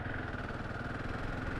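A KTM 690 motorcycle fitted with an O2 delete kit, ridden in fifth gear, gives a steady, continuous engine drone that holds close and fairly loud from start to finish.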